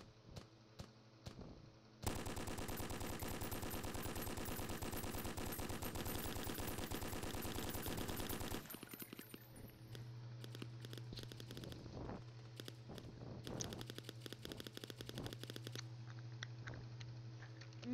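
Rapid automatic gunfire from a Roblox war game set in Kandahar, Afghanistan, a long sustained burst of fast cracking shots followed by scattered single shots and shorter bursts, with a few isolated shots at the start.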